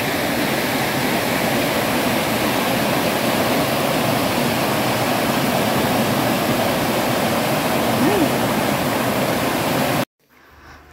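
Chiefan waterfall on the Linmei Shipan Trail in Taiwan roars as a steady, loud wash of falling water for about ten seconds before it cuts off abruptly.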